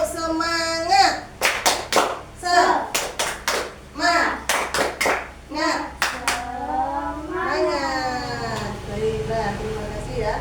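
Children in a classroom do a rhythmic spirit clap, with bursts of sharp hand claps in a patterned beat that alternate with their chanting voices close by.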